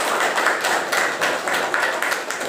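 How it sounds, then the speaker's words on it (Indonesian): A class of students claps together in an Indonesian classroom, a few rhythmic bursts of group clapping in quick succession, fairly close and loud with no talking. "Tepuk tangan buat kita"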